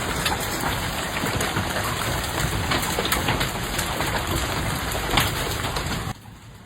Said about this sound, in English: Getting a little hail tonight in Omaha.